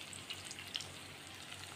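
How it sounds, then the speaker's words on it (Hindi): Carrots sizzle in a frying pan for vegetable macaroni, a faint continuous crackle and hiss with a few small pops and light stirring, no voices. "अब इसमें सबसे पहले हम गाजर को डाल देंगे,"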